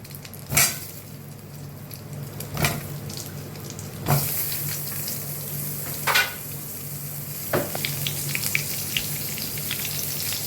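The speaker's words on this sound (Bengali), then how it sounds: "ভেজে নিচ্ছি" Potatoes frying in a pan with turmeric and salt make a steady soft sizzle, broken by several sharp metallic clinks of a spatula against the pan at regular intervals.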